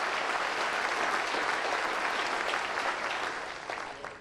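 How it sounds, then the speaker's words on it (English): A theater audience breaks into a full, even round of applause that stays strong and then gradually fades out. "give my friends a big round of applause for helping out there, would you?"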